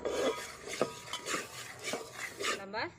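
A spoon stirring turmeric into village-style duck curry in a metal pot, with repeated scraping and clinking strokes in an uneven rhythm, close and fairly loud, with no talking.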